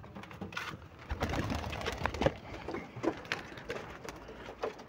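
Pigeons coo softly as they are let out onto a rooftop, a murmur of several birds close by with rustling and light fluttering, no talk.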